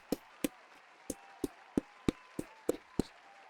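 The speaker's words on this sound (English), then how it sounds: "Can we all just solemnly take a moment to have an applause for Francis Ngannou?" A lone pair of hands claps nine or ten times at an uneven, slow pace, each clap sharp and isolated against near silence, rather than the sound of a full audience.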